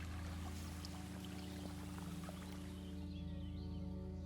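Churning water of the Bad River near Copper Falls in Wisconsin, a steady dense roar of rushing flow filling the whole clip, close and continuous with no voices.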